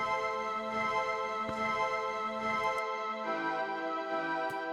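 A bright synth pad from a hard trap beat plays dry without EQ, sustained chords with a buzzy full low end and a couple of short clicks, alone and fairly quiet.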